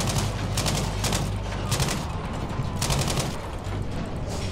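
Gunfire in Battlefield V, loud and near, coming as a rapid volley of sharp automatic shots with a brief pause and then another burst, and almost no talking.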